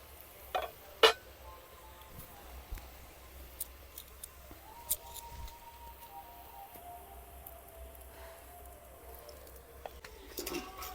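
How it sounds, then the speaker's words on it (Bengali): Potato sticks fry slowly in hot oil, a faint, soft sizzle with occasional light taps and clicks of a utensil, quiet and close with no talking. "আমি আস্তে আস্তে করে ভেজে নিচ্ছি"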